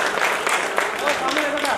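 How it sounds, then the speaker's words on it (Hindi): Crowd applause at a Marwari bhajan gathering for a temple donor, scattered clapping that carries on under someone talking over a microphone. "जोरदार तालियां सुरेंद्र सिंह जी सोलंकी के लिए"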